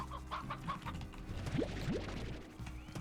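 Hen-hens in the video game Slime Rancher, a few short clucks up front over a busy bed of game music, with a couple of quick rising chirps midway, moderately loud and without speech.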